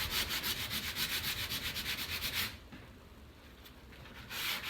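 Rhythmic back-and-forth rubbing of sandpaper on painted furniture finished with a moody blue paint and black wax, with steady quick strokes for a couple of seconds, then a pause and a brief resumption.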